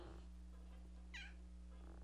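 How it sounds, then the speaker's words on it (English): A single short meow from a cat sounds once over a steady low hum, with no talking. "gonna meow at me?"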